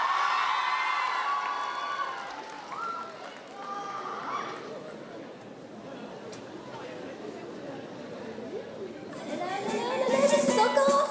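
A crowd at the Chibi Rouen Hanami 2024 cosplay contest shouts and cheers for a cosplayer, a loud sustained roar of many voices with scattered high-pitched calls, swelling again toward the end.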